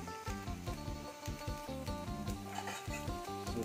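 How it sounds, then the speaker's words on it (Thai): Chillies, garlic and shallots dry-roasting in a pan, a faint scraping and light crackle repeating as the ingredients are stirred, with no one speaking. "ก็จะมาคั่วพริกกันนะครับคั่วพริกกระเทียมหอมแดง"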